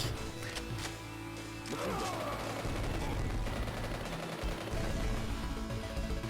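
Rapid rifle fire from the Sega Genesis game Metal Dragon, with a string of sharp synthesized shots and crashing impacts over looping game music.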